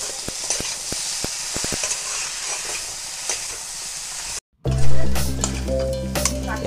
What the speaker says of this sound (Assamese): এতিয়া আকৌ এবাৰ লৰাই দিছোঁ, আৰু কাটি থোৱা আলুখিনি এতিয়া ইয়াতে দি দিম